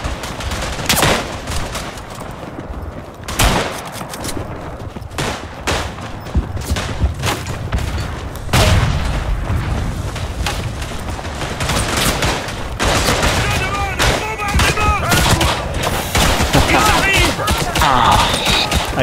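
Dense gunfire from the World War One shooter Verdun on the Aisne map, a steady fusillade of rifle and machine-gun shots, some crackling from a distance, running throughout with no speech over it.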